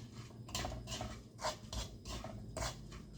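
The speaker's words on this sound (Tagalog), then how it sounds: "So haluin natin yung ating brown sugar." Brown sugar is stirred in a bowl with repeated scraping, rasping strokes in an uneven rhythm, close but soft, with no voices.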